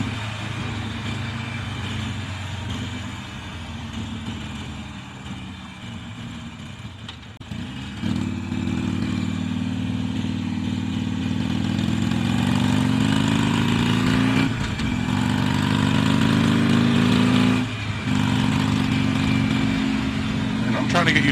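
A Harley-Davidson Iron 883 motorcycle engine runs with a low rumbling drone that steadies and rises as the bike rolls on, with pitch swells from throttle changes and a rider talking over it at times.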